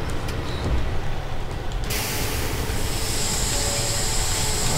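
In Farming Simulator 17, a Claas Xerion tractor engine gives a loud, steady mechanical roar with a hissing rise partway through, continuous and close, with no talk over it.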